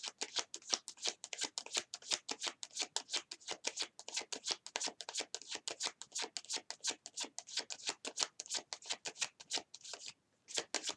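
Tarot cards being shuffled by hand in a long run of quick, crisp riffling bursts, steady and close, with a brief pause near the end and no talking.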